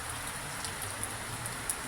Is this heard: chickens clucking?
no